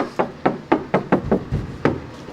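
Knuckle knocks on the bottom of a 1954 Buick Roadmaster door packed with body filler or mud, eight dull, evenly spaced raps close up, thudding rather than ringing, with no talk.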